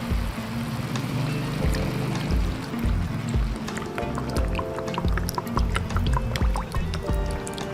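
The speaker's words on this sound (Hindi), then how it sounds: "चिकन ऐड करने के बाद अब मैं इसमें ऑयल ऐड करूँगा" Cooking oil is poured onto chicken in a karahi for Peshawari charsi chicken karahi, giving a steady liquid glugging and dripping close by, with faint crackles throughout.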